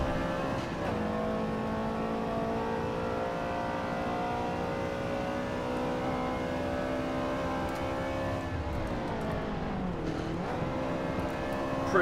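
A Subaru BRZ laps a dry track in Forza 7, its engine holding a loud, steady drone before dipping and climbing again as it revs back up.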